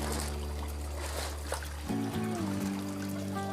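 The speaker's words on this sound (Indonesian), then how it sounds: "Jadi nanti airnya tidak usah dimasukkan, jadi nanti airnya kita buang saja." Water from a goldfish bag is poured away, a soft steady trickle and dribble close by under a low background hum, briefly shifting in tone partway through.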